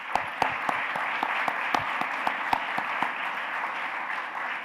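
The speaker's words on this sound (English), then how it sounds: "So please join me in giving the Economic Club a round of applause for this." An audience at an Economic Club of Canada life sciences event applauds: steady, even clapping from a room of people, with a few crisp nearby claps popping out and little talk.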